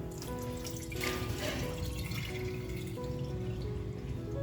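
Flattened rice (poha) being washed in water, with splashing and trickling water sounds and a few clinks of a vessel close by, no talking.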